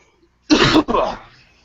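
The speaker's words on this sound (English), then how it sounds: "it's just one cough" A single harsh cough or throat-clearing burst, loud and close, broken into two quick parts, then a faint tail fading into quiet.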